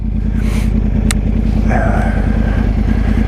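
A 2013 Yamaha R1 sport bike engine running at night, a loud, steady low rumble close by, with a brief sharp click partway through and no speech.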